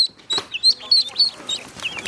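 Several Yi Liang ducklings quack repeatedly in short, overlapping bursts, close by on a farm, with a few fainter calls from other birds.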